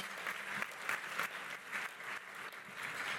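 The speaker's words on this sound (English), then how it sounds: "give them a round of applause for their birthday" An audience at a conference opening plenary session claps in sustained applause, steady and fairly distant, with no voices standing out.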